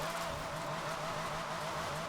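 A drift-built car in Forza Horizon 4 slides sideways with a sustained tire squeal over a steady engine drone, loud and unbroken throughout.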